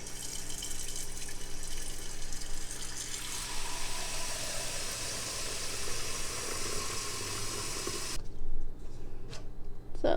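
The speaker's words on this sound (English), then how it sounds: "So I'm going to put some water to it." Water pours from a kitchen tap into a small pot for cooking rice, a steady rushing stream whose tone shifts as the pot fills, then the flow cuts off and brief handling clatter follows, close up.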